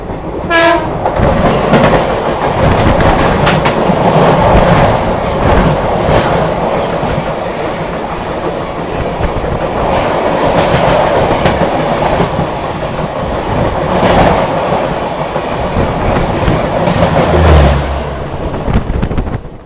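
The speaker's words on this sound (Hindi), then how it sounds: "अब हमारी ट्रेन पहुंच चुकी है अपने नेक्स्ट हॉल्ट भरूच जंक्शन" Ahimsa Express train pulling into Bharuch junction, a steady loud rumble of rolling wagons and wheel clatter with a horn tone near the start, no talk.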